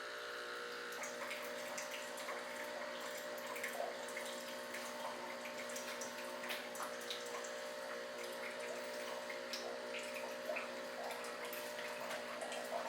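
A Nespresso coffee machine runs water through its cleaning cycle, giving a faint, steady hum of pumping and trickling liquid with no talk.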